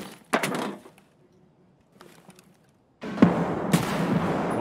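Gunfire in a video game: a loud cracking burst near the start, a few faint scattered shots in the middle, then a sustained stretch of dense, heavy firing to the end.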